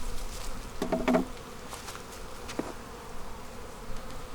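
Honeybees buzz at an open hive during a late-season inspection, a dense, steady drone close by, broken by a few short louder thumps and rustles.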